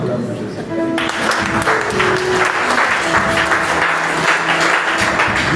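A congregation at a French-speaking charity gathering with a prophet breaks into sustained applause, a broad wash of clapping that swells in and holds steady, with voices and other sounds mixed in.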